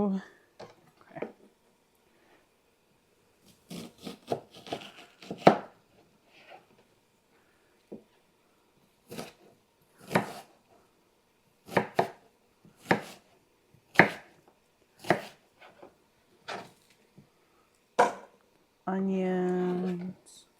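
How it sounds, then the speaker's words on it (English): A leftover onion is chopped with a knife on a board in a series of sharp, separate close chops spaced irregularly, with a person talking at times. "We've got a leftover onion here that we're going to chop up."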